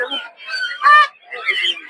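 Ducks at a village poultry market in Narsingdi, several loud nasal honking calls in quick succession, close by and alone.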